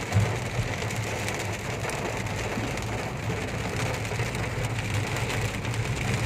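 Heavy rain pours during a storm that has brought down trees, a steady, dense hiss of drops on surfaces, unbroken and even in level, with no voices.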